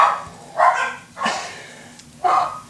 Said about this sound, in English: My dogs are really annoying, a lot barking.